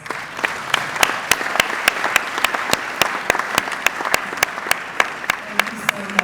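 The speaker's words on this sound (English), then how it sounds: "that was not a very good applause" A small audience gives thin, scattered applause at an herbal medicine awards event, individual sharp claps standing out irregularly over a soft murmur of voices.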